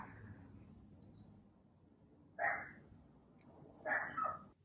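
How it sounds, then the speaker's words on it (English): Dogs barking outside: two short, muffled barks at a distance, separated by a few seconds, over a faint background hum. "Now they're barking at the neighbor"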